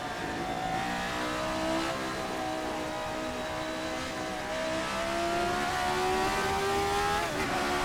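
A Formula 79 race car in a video game accelerates hard, its engine rising steadily in pitch through the gears as it runs down an infield straight, loud and continuous with no talking.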